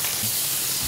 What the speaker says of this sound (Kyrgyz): Эки бетин кызарта кууруп алдык.